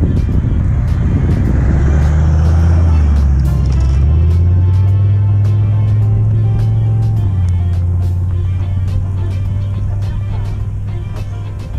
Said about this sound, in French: sa voiture, elle fait un beau bruit